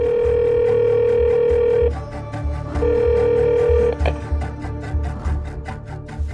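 A telephone call goes out, with a steady, loud electronic tone on the line that cuts off and resumes, followed by a run of shorter beeps.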